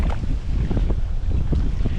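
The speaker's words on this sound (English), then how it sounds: "You can see how strong that wind's blowing." Strong wind buffets a microphone out on the water during winter bass fishing, a loud, constant low rush with gusty thumps and no pauses.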